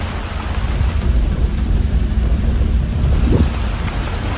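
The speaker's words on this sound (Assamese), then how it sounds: "অলপ অলপ বৰষুণ দি আছে" Light rain falls outdoors in a forested area of North Lakhimpur, Assam, as a continuous soft hiss with a low rumbling undertone. It is steady and unbroken throughout.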